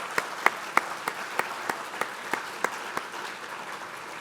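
An audience at a Colorado State University milestones ceremony applauds family and friends, a dense crowd clapping with a few crisp nearby claps standing out in a regular beat before fading.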